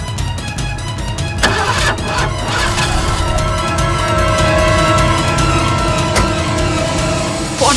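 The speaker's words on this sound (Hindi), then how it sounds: "लेकिन मेरी गाड़ी स्टार्ट नहीं हो रही थी।" A car engine cranks repeatedly without catching, a steady loud churning rhythm that runs throughout with short bursts and no sign of it settling into an idle.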